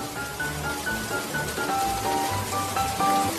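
Steady rain pours in a cold setting, a dense continuous hiss with a soft tonal melody running beneath it and no voices.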